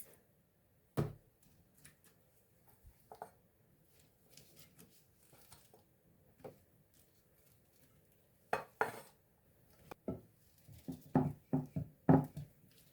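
Rice tipped into a pan over chicken pieces in broth, heard as sparse clinks and scraping clatters of utensils and cookware, mostly quiet early, then a busier cluster of bumps and clanks toward the end, no talking.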